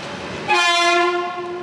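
Horn of the Amrit Bharat Express departing Bolpur, a single loud, sustained blast that starts abruptly and holds steady, heard alone.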